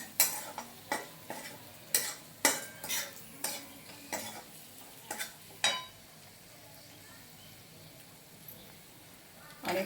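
A spoon clinks and scrapes in a frying pan while spices are stirred into onion and potato for poha, with a soft sizzle underneath, about a dozen irregular taps followed by a quieter stretch.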